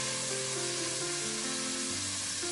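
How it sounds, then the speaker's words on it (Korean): Chili powder, both hot cheongyang pepper flakes and regular gochugaru, sizzles in oil as it is stir-fried in a pot for yukgaejang. A loud, steady frying hiss fills the whole stretch without speech. "청양고추 2스푼, 그냥 고춧가루 1스푼 넣고 달달 볶았어요"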